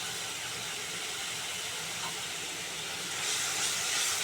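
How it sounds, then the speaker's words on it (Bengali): Spices fry in a pan with salt, turmeric and Kashmiri chilli powder, giving a steady broadband sizzle and hiss throughout that swells slightly toward the end. "ভালো করে মশলাটা কষে নেব।"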